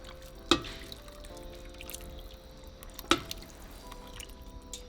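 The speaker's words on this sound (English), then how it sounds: "I'm just going to grab my consommé and pour it on top of my meat." Birria consommé is poured over cooked meat, heard as a few wet drips and splashes, two of them sharp and close, over a quiet kitchen background.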